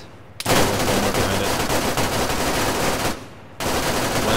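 Sustained roar of a minigun firing in ArmA 3, a dense continuous burst of rapid gunfire that stops briefly before resuming, loud and close with no voices.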